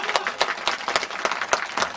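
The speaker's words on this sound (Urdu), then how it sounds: "بھرپور تالیاں ملک اعتبار خان صاحب کے لیے" Audience applause for a local dignitary at a Pakistani community gathering: steady, dense clapping from a crowd, near and continuous across the whole moment with individual claps standing out.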